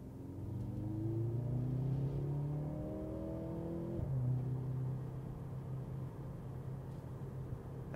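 Engine of a 2024 Mercedes-AMG C43 in Sport Plus mode, heard as a low, steady rumble that rises and falls with rising-pitch revving sweeps and shifts, moderately loud and close.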